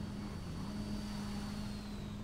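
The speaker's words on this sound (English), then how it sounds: "možemo da palimo motor" A car engine in Grand Theft Auto V runs at a steady, even drone, with a faint high whine above the low rumble and no talk over it.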